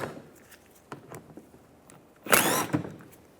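Brief mechanical clicks and ratcheting as screws are removed with an 8mm socket during trailing arm bushing work on a 2004-2010 BMW X3, ending in a louder metallic burst, close and without talk.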